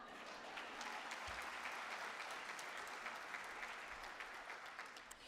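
Audience at a college district convocation claps in sustained, dense applause, a steady, even patter of many hands, fairly distant and faint, without voices.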